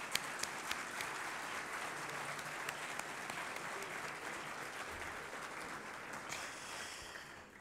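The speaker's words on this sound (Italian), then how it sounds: "gli possiamo fare un applauso in questo momento" A crowd at an academic year inauguration ceremony applauds steadily with continuous clapping, heard from a slight distance, fading slightly at the end.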